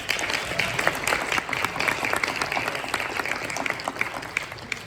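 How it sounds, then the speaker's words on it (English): An audience at a town hall meeting on police accountability applauds in a dense, steady round of many hands that carries evenly throughout without fading. "I want to give you all a round of applause"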